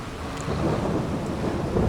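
Rain falling steadily with rumbling thunder in a farming video game, a dense continuous downpour with low rolling thunder swelling partway through, heard alone without talk.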